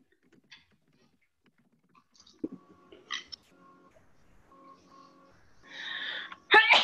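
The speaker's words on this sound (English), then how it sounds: "Somebody sneezed" A single sneeze from a participant on a video call bursts out near the end, loud and close, following quiet scattered room noises and a faint steady tone.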